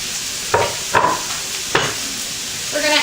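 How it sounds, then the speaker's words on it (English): Sliced mushrooms and onion are stirred in a sizzling pan, with a few utensil knocks against the metal over a steady frying hiss. "We're going to add our mushrooms and our onion to our pan, and we're going to saute them"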